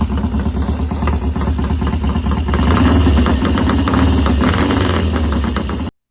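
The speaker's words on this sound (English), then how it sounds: "a cold start video demonstrates that the engine runs" A classic Triumph motorcycle engine runs after a cold start, a loud close steady idle with a rhythmic mechanical knock and vibration that continues evenly for about six seconds before cutting off abruptly.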